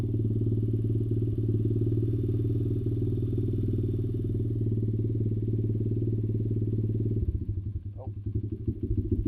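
A Chinese 125cc pit bike engine idles high with a loud, steady, buzzing putter close by, then the tone drops and turns choppy near the end, with a brief voice over it.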